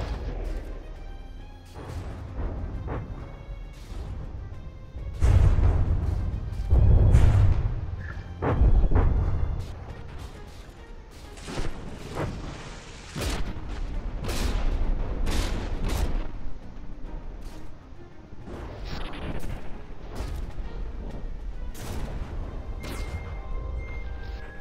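Naval guns fire salvo after salvo in a video game battle, deep booming artillery blasts and crackling volleys rolling and overlapping throughout, loudest in a heavy burst early on, then continuing as dense distant fire.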